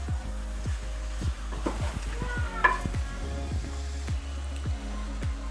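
Kebab pieces stirred into a sizzling karahi masala, a steady close sizzle under repeated scraping strokes of a spoon against the pan, with a low hum running throughout.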